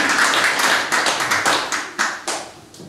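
Applause from a small audience at an anniversary ceremony, a few distinct hand claps in an uneven rhythm fading and thinning out over a few seconds, fairly close.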